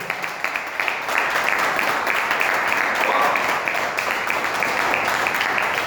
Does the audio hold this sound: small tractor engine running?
no